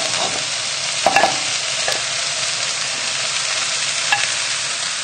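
Pork and vegetables being stirred in a cooking pot, a steady soft sizzle broken by a few sharp clanks and scrapes of the utensil against the pot, close by with no voices.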